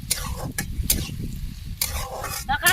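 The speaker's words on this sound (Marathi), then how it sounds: "कांदा तळून घेते" Onion fries in a pan with a brief burst of crackling sizzle, interrupted by quick scraping stirs and a few sharp utensil knocks, loud and close.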